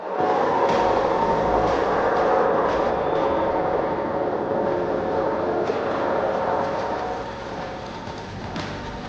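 A train rumbles past steadily and loudly, a continuous broad roar with faint rail clatter throughout.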